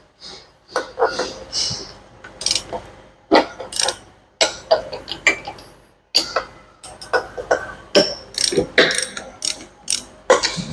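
Ratchet wrench loosening the nuts on a tie-rod hydraulic cylinder, heard as close, repeated bursts of rapid pawl clicks, each a short run of sharp ticks separated by brief pauses, with faint voice sounds in places.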